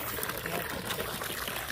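Water pours steadily from the pipe of a newly installed hand pump during a borehole installation, a soft continuous splashing trickle, faint and unbroken throughout.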